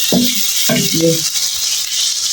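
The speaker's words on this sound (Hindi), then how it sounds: "अब इसमें हम टमाटर का पेस्ट डालेंगे।" Tomato paste hitting a hot pan of spiced tiny eggplant masala, a loud steady sizzle and frying hiss with a few stirring knocks near the start.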